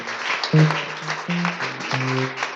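A church congregation at a praise and thanksgiving service claps and cheers loudly and continuously, with sustained musical tones sounding beneath the crowd noise.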